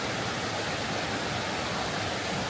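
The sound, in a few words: flowing stream near a waterfall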